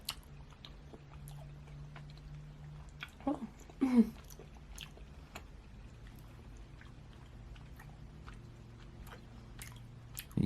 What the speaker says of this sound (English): You gonna slurp that bread, too?